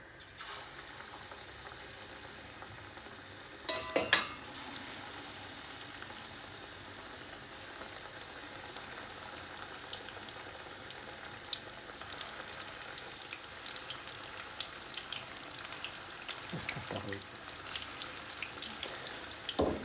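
Aubergine pakora fry in a pan of hot oil, giving a steady, soft hiss and crackle with a few louder bursts as pieces are added.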